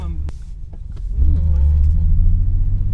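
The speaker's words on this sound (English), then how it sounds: "Oh, full gas. Yeah, all those 4 cylinders." A BMW E32 running rough on only four cylinders revs hard at full throttle, a loud low rumbling engine roar building and holding from inside the car, with a voice talking over it.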